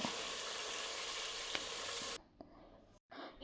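Onions frying in oil for naati-style mutton dum biryani: a steady, close hissing sizzle for about two seconds, then it drops to a faint crackle with a brief stir.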